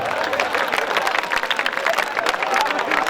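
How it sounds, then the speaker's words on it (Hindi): A crowd at a night Hindi poetry recital, a kavi sammelan at the Swami Keshvanand institute, breaks into dense, steady applause. The clapping is close and sustained throughout, with no pauses. "आप भी बजाओ ताली।"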